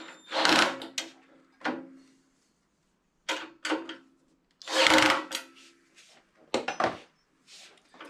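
Bolts on a sim rig seat slider being tightened with a hand tool, in short bursts of close, rasping ratchet clicks separated by silent gaps.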